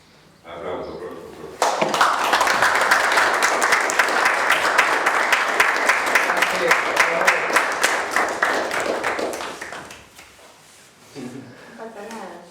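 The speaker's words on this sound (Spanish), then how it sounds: "Aplauso, profesor." Students applaud their teacher in a rural classroom, a burst of lively clapping from a small group lasting several seconds before fading, with voices talking just before and after.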